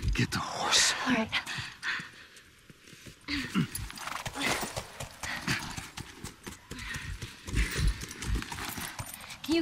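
Horse hooves clip-clop in a steady, close rhythm in The Last of Us Remastered, with soft murmured voices underneath.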